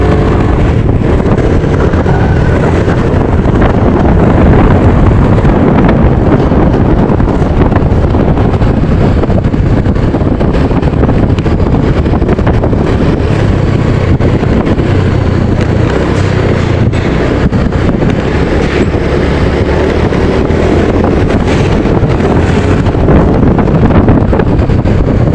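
Heavy, continuous wind roar buffets the microphone throughout a test ride on a Honda Beat scooter with a stuttering throttle fault, loud and steady, with any engine note buried beneath the rushing air.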